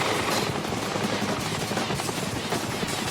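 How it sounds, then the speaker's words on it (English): A police helicopter hovering overhead during street unrest, heard as a steady, loud rotor thrum and wash of noise that runs unbroken throughout, with no talking. "There's a police helicopter hovering above them now."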